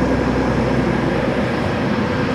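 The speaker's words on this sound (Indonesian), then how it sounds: "Sedang ada pergerakan langsir rangkaian." Train carriages shunting at an Indonesian railway station make a steady, loud broadband rumble and roar that holds throughout, with no voices.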